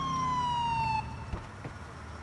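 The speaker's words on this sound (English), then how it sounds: "Cops, I'm turning my siren on." A police siren sounds in GTA IV, a steady wailing tone that holds for about a second and then cuts off, leaving low engine rumble and a couple of soft thumps.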